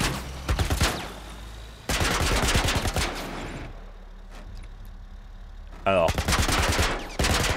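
Rapid automatic gunfire from The Last of Us Part 1 comes in loud bursts with a quieter lull in the middle, while someone talks briefly over the shooting.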